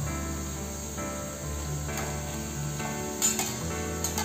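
Malvani chicken vada, made from roasted flour batter, sizzles steadily as it fries in hot oil in a pan, with a few soft clinks of a utensil as it is flipped to the other side.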